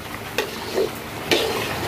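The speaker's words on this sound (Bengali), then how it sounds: "আমি মুরগির মাংসটা একটু একটু কষা কষা করে রান্না করব, সেজন্য আমি এখন একটু নেড়ে এখন ঢেকে দিব" Chicken curry being stirred in a pan, two or three brief scraping strokes of a spoon against the pan, close and moderately loud, with no talk.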